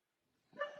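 Dogs bark in a short burst indoors, starting quiet and then rising to a fairly loud cluster of yips and barks near the end.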